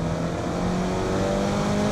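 Engine of a modified Mini Clubman pulling hard under acceleration toward 6,500 RPM, a loud, steady, rising drone heard from inside the cabin, with no talk.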